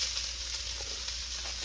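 Onions and carrots sizzle in a hot pan for keto shrimp fried rice, a steady bright hiss of frying with faint crackles, close and continuous.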